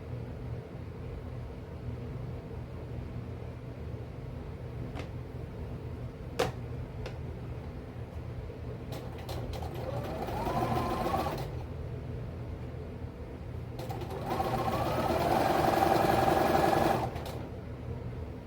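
Sewing machine stitching fabric scraps together, two short bursts of mid-level whirring in the second half over a steady background hum, with faint clicks earlier.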